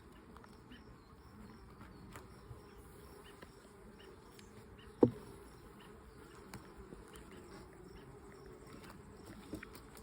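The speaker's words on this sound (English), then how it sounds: "The bees have been remarkably calm." Italian honeybees buzzing softly in an open hive during an inspection, a faint continuous drone with scattered nearby wingbeats and one sharp knock midway, no voices.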